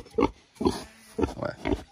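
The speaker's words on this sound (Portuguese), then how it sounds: "Esse é o reprodutor barrão, né?" Pietrain breeding boar grunting in a pen on a farm in Paraíba, Brazil: several short, close, deep grunts in an uneven rhythm.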